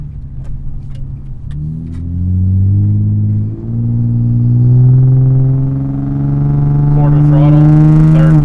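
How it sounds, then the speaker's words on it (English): An Infiniti G35 sedan fitted with a Z1 Touring exhaust accelerates hard on a winding road, its engine note climbing steadily in pitch with a brief dip at a gear change, loud and close, with a voice briefly heard near the end. "let's hear some acceleration after this turn"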